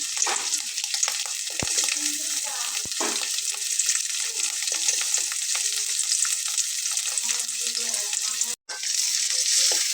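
Chopped onion and carrot sizzle steadily in a hot pan for a vegetarian cauliflower and potato momo filling, a constant loud frying hiss with a few stirring clatters.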